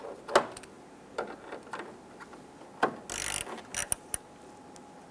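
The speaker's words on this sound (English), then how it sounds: "Let's install our four screws across the top of the grill." A ratchet tool drives screws into the grille of a 1995-2001 Ford Explorer, giving a series of sharp clicks and short ratcheting bursts close by, with a brief harsh grinding rasp midway and scattered taps after.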